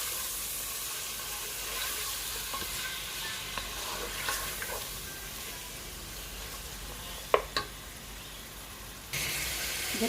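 Chicken with ginger garlic paste frying in a pot for white korma, a soft continuous sizzle and hiss with occasional stirring clinks and a couple of sharper knocks near the end.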